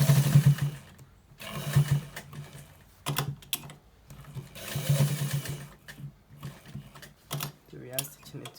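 A sewing machine stitches white trouser fabric in several short, quiet bursts separated by pauses, with faint clicking and handling between runs.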